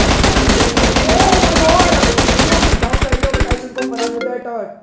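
Rapid automatic gunfire from a battle royale esports tournament final, loud bursts of fire filling most of the stretch before trailing off into sparse shots and game effects, with no speech heard.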